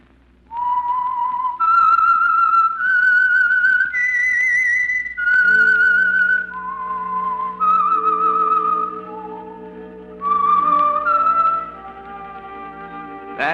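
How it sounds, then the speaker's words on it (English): A lone whistled melody serves as the signal for the Signal Oil radio program The Whistler, clear sustained notes stepping up and down in a slow tune with a lower orchestral accompaniment joining partway through. "That whistle is your signal for the Signal Oil program, The Whistler."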